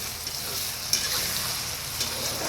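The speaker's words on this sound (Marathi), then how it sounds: "वाटून घेतलेली मिरची घालावी व तेलात छान परतून घ्यावी" Ground green chillies frying in oil with cumin for a crispy mirchi thecha, giving a steady, moderately loud sizzle throughout with a single brief stir tick near the start.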